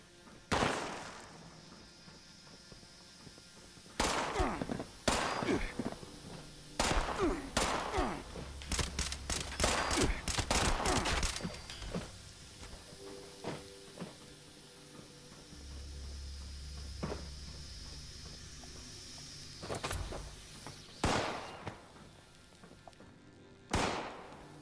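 Gunfire in the video game Fallout 76 cracks out as scattered single shots and rapid clustered bursts, loud against quiet gaps, with several more isolated shots toward the end.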